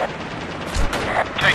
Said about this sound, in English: Gunner, fire! Suppress that position!